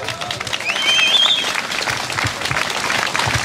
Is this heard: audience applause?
yes